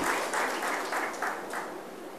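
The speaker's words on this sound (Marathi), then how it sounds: "म्हणून 15 टाळ्या वाजल्या" Audience applause at a political speech in Maharashtra, a steady crowd clapping that swells in repeated waves over about two seconds, with no voices heard.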